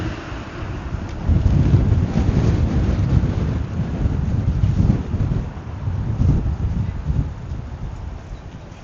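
Strong gusts batter a phone microphone outdoors on a downtown Toronto street, producing a heavy, rumbling roar that surges and eases in waves, close and loud, with no speech.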